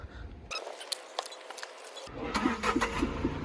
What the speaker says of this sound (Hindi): अभी देख रहे हैं गाड़ी को थोड़ा स्टार्ट करके कि क्या सीन है